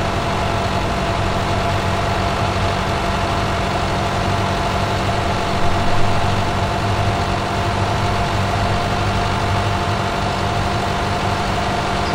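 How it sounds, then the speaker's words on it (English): A tractor engine in Farming Simulator 2017 labors steadily while pulling a seeder uphill, a continuous heavy low drone with a slight swell midway, loud and alone throughout. "Now this was not the tractor to use with this seeder. It slowed down a lot going up this hill."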